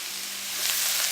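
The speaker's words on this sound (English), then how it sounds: "Mix well and saute them until they are soft and tender." Carrots, capsicum, French beans and cabbage sizzling in a hot pan for veg fried rice, a brief, steady close hiss rising slightly, with no talk.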